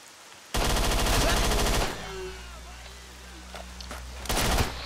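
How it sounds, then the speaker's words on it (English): Submachine-gun fire in the shooter game S.T.A.L.K.E.R.: Shadow of Chernobyl: a loud, rapid burst of about a second and a half, a lull with faint game sounds, then a second short burst. "Oh god, he's got an SMG."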